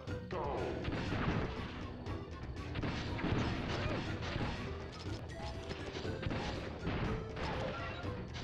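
Chaotic Crash Bash party-game action is full of repeated bomb blasts and crashing impacts, with loud bursts and thuds piling up continuously and voices occasionally mixed in.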